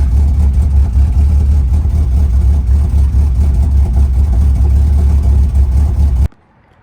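A freshly installed 04XX motor runs steadily and loudly up close, a dense continuous engine drone with slight fluctuations in rev, cutting off abruptly near the end.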